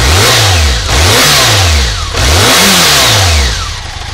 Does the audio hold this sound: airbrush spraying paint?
no